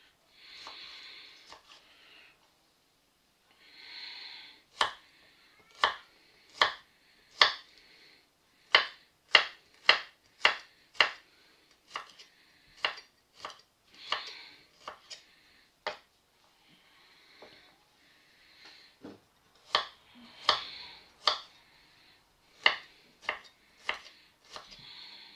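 A knife chops garlic into small sticks on a cutting board, sharp close taps coming in irregular bursts with short pauses between runs, alone without talk.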